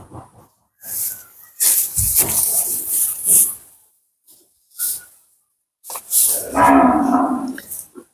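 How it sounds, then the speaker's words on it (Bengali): Dairy cows on a Bangladeshi dairy farm mooing in several long, loud calls separated by short pauses, close to the microphone, with breathy snorts between calls and faint background noise. "গরুটা দেখেন আপনারা"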